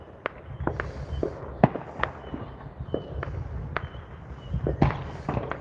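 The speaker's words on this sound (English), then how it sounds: "I'm not sure how long the fireworks show is supposed to last." Fireworks bursting over Colville, Washington, a scattered run of sharp cracks and pops at irregular intervals, some distant and some louder, over a low rumbling background.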